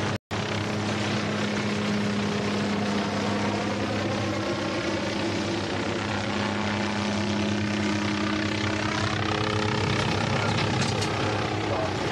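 A helicopter's steady rotor and engine drone fills the air continuously over the US–Mexico border surveillance setting, loud and unbroken throughout.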